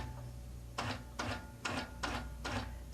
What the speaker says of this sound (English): now it takes a stitch every ½ inch